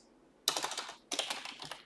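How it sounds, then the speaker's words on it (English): A computer keyboard is typed on in two quick, dense bursts of clicky keystrokes, close and fairly loud, with a short pause between them. "sorry there's a delay in the typing"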